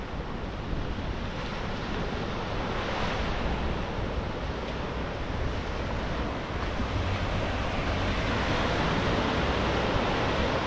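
Waves wash steadily onto the shore at Coco Beach, Tanzania, a continuous broad surf roar mixed with wind buffeting the microphone, with no voices.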